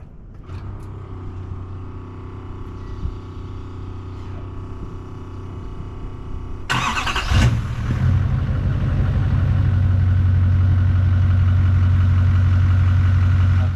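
A Dodge Hellcat, fresh from fuel, oil and transmission filter changes, cranks briefly and fires up, then settles into a loud, steady, rumbling idle close by.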